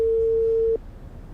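A telephone call rings out unanswered: one steady, clear ringback tone holds for under a second and then cuts off, leaving faint background hiss and no voices.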